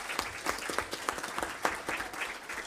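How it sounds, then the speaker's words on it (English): People at a school district board meeting give a round of applause: scattered, moderately quiet claps with uneven rhythm, from a smallish audience. "y'all need to give him a big round of applause"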